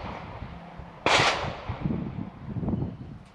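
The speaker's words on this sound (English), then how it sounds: "Let me try this again. I'd take another shot." A single rifle shot cracks loudly at an outdoor shooting range, a sharp blast followed by a short rumbling decay and faint background noise.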